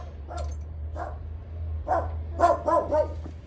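A dog barks close by in a run of short, sharp yips and barks, a few isolated at first and then a quicker cluster, over a low steady hum.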